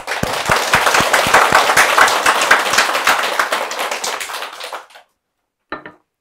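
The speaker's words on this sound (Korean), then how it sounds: "다들 자신을 위해 박수 한번 쳐주세요" Lecture-hall audience at a public talk applauding, a dense run of many hands clapping for about five seconds before stopping abruptly, followed by silence and one short final burst of a few claps.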